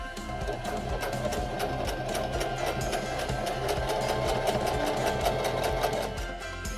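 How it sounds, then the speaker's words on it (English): A Singer Denim HD6335M sewing machine stitches a flat fell seam in denim, running as a steady, fast mechanical whir with rapid needle clatter, close and continuous throughout. "And we're ready to sew the rest of our flat fell seam."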